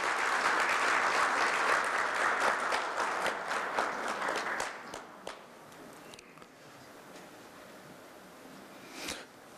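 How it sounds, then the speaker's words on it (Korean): A ceremony audience at a Korea University graduate school committee launch breaks into steady, fairly loud applause that tapers after a few seconds into a few scattered claps and quiet room noise. "박수로 맞아주시면 감사하겠습니다"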